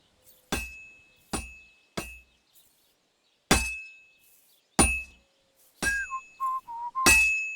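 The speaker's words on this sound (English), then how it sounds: "Now take the hammer and try hitting it a few times." A hammer rings against a heated sword on an anvil at a medieval forge in Kingdom Come Deliverance 2, striking sharply about six times at irregular intervals, each blow a bright metallic clang with a lingering ring.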